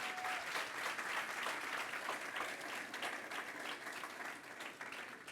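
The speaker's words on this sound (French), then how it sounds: "Elle, c'est Charité Frigui, que je demande qu'on applaudisse très fort." An audience applauds a presenter introduced at a high school awards ceremony, a sustained wash of clapping from many hands that stays fairly even and slowly eases.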